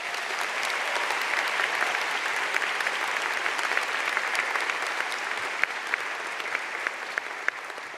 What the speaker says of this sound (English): I'd like to take a moment to thank you, staff, for what you do, have done, and will continue to do by supporting W&L students with a round of applause